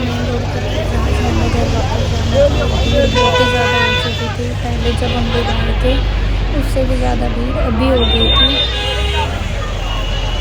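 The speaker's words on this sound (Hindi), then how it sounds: "ये देखो ट्रैफिक कितना ज़्यादा था" Heavy road traffic outside an ISKCON temple in Bahadurgarh during the Janmashtami festival, with buses and cars idling, repeated horn toots and a busy crowd babbling close by, plus people talking over the din.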